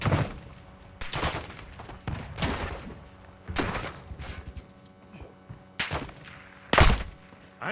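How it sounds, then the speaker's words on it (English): Gunfire crackles through Call of Duty DMZ in sharp, loud bursts of automatic shots separated by short pauses, with scattered thuds and a quieter background between the volleys. "I'm taking fire."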